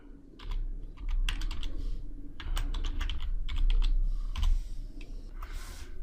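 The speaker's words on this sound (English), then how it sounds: "I'm going to type in" Keys on a computer keyboard clatter in quick irregular bursts as a label name is entered in Visual Studio, close and crisp over a low background hum, with no voices.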